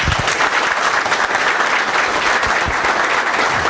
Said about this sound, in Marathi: एकदा कोल्हापुरी स्टाईलमध्ये सरांसाठी जोरदार टाळ्या